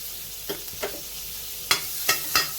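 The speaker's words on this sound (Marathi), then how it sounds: "बटरमध्ये लसूण आणि हे काही ज्या चॉप केलेल्या भाज्या आहेत तर ते थोड्याशा सॉटे करून घेऊया" A few sharp scraping clatters of a utensil stirring garlic and chopped vegetables sautéing in butter in a pan, over a faint, steady background hiss, spaced irregularly with quiet gaps between.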